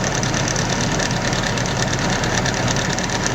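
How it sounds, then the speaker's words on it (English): Nissan S14 240SX engine running with its timing chain rattle, a loud, steady metallic clatter that continues unbroken with no talking. "how to get rid of that infamous 240 timing chain rattle"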